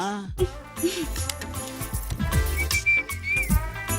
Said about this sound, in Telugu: అలా విజిల్ కూడా వేయకూడదు తల్లి.